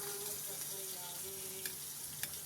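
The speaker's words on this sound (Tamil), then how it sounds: "கடுகு, பச்சை மிளகாய் தாளித்து இந்த வெள்ளரிக்காய் அதில் போட்டுக்கலாம்" Mustard seeds and green chillies sizzle in a little hot oil, a soft steady frying hiss with faint tonal hums, broken by a few quick sharp crackles and clicks toward the end.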